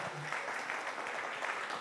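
A church congregation applauding during an evening service, a steady wash of clapping that stays fairly soft and distant throughout, with no distinct voices rising above it.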